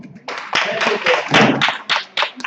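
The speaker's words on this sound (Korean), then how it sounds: "박수 한번 쳐주세요." Audience at a seminar clapping, a burst of close hand claps in an irregular rhythm with some voices mixed in.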